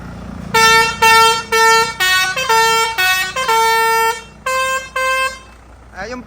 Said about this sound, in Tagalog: Yan yung musical horn natin tsaka yung dalawang forfeit.